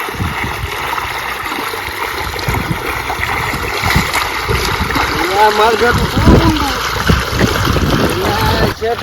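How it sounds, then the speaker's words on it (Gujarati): Water gushing from a motor pump into an irrigation channel in a farm field, a steady close rushing and trickling under a voice talking throughout. "પાણી તો સારું આવે છે"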